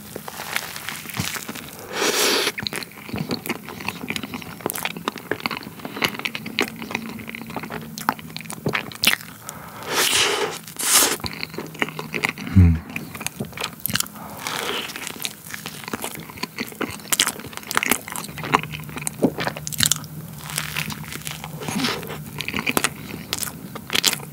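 Steady close-up crunching and chewing of soft, moist melon cream bread from a convenience store, with repeated bites and mouth noises continuing throughout and no talking.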